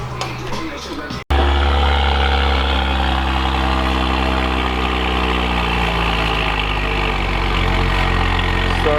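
A tuned Saab Turbo X with an upgraded 20T turbo and new mid pipe idles steadily after a brief cut near the start, its low, even engine hum close and loud throughout.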